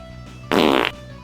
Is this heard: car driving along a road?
no